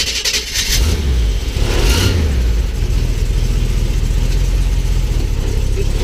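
A 1977 Excalibur III with a Chevy 454 big-block V8 rumbles loud and close, a short rev near the start settling into a deep, steady drone as it drives off.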